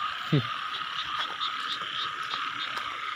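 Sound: frogs and banded bullfrogs croaking at night in rain

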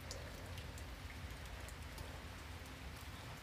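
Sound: rain falling outside

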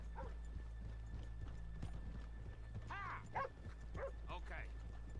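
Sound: horses' hooves clip-clopping and neighing in Red Dead Redemption 2 video game

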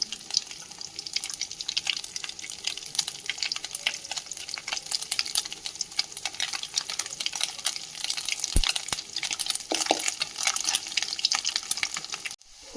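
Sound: grated coconut frying in oil

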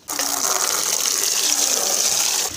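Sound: tub being filled with water from a tap

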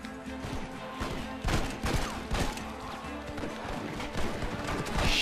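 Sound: gunfire in the video game Red Dead Redemption

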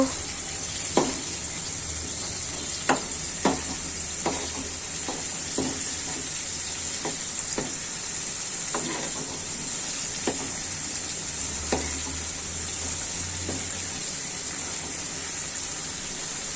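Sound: rui fish being fried and stirred in a pan

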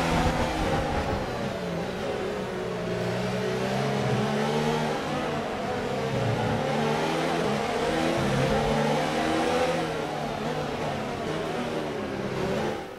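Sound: F1 race cars racing and overtaking in video game F1 2019

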